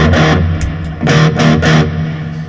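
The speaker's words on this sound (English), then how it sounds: "Let me hear the angry Chalie at noon." Electric guitar runs through a JHS Angry Charlie distortion pedal set at noon, giving loud, crunchy, saturated chords strummed in a few close bursts with heavy sustain.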